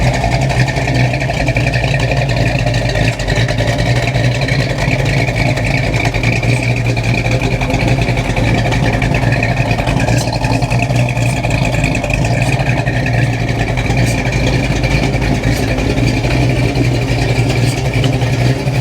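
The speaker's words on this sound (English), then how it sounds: "And this 340 sounds healthy." A restored Y9 Gold 1973 Dodge Challenger Rally 340 V8 idling, a steady loud rumbling burble that stays even and unbroken throughout, heard close with no talk over it.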